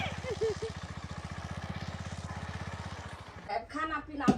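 A motorbike engine thrums in a steady rapid pulse while riding, fairly close and moderately loud, with voices talking over it toward the end.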